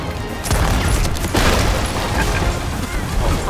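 Cannons firing from a ship in Sea of Thieves, with two or three loud booming blasts and a rumbling explosive wash between them, partly under a player's voice.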